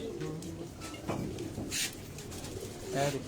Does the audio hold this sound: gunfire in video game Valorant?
no